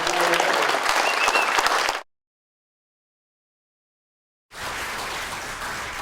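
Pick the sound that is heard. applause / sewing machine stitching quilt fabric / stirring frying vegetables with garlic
applause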